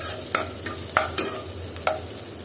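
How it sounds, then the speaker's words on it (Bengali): Crushed cardamom, cinnamon and cloves being stirred in a frying pan, a few distinct scraping strokes of a spoon over a faint steady sizzle, close and fairly quiet with no voices. "আর এখন আমি এটাকে সব একসাথে আবার নেড়ে চেড়ে দিলাম।"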